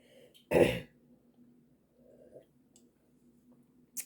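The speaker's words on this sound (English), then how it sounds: "That cough is bad." One sharp throat-clearing cough near the start, then quiet with faint breathy noises and a small click at the end.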